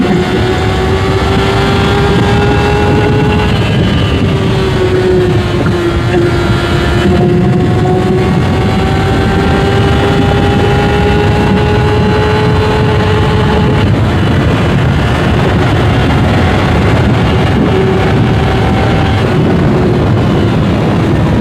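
A Honda CB650R motorcycle rides at high RPM with heavy wind blast. A steady high-pitched engine whine rises and shifts through gears under constant loud wind roar, close and continuous.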